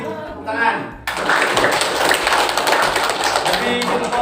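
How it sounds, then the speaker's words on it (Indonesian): A class of students clapping for the winning group in a school lesson, starting abruptly after a brief voice and continuing as dense, loud group clapping with some chatter mixed in. "Kasih tepuk tangan."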